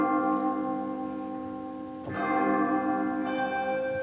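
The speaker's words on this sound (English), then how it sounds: "Handbells, great handbells." Handbell stop on a church organ playing bell tones, a sustained ringing chord with a fresh strike about midway and another near the end, moderately loud with no talking.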